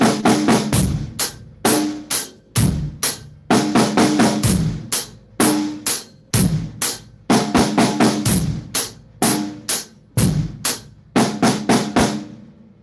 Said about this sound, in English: do a little bit of a drum roll at the end of that measure.